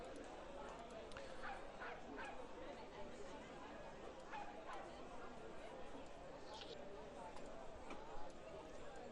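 Quiet ambient dog barking plays as background audio during a tabletop role-playing session, with scattered yips and barks spread across the stretch under a steady noise bed.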